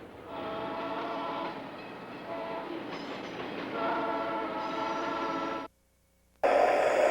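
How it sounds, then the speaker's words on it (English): A train rumbles past at close range with a loud, sustained horn blast, several tonal bursts over steady rolling noise, then a brief near-silent gap before another loud burst. "The people in this cab are professionals, but they can't stop this train quickly."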